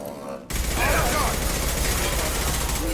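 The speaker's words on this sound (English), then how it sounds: "Taking fire." Sustained gunfire in Mass Effect 2, a dense continuous barrage of shots with rumbling low impacts that kicks in abruptly after a brief quieter lead-in and stays loud throughout.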